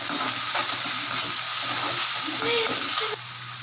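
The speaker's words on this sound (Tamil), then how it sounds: "தக்காளி இதிலேயே நல்லா எண்ணெயில் வதங்கட்டும்" Tomatoes sautéing in oil in a pan, softening until the oil separates; a steady, close, loud sizzle continues throughout with light stirring, no voices.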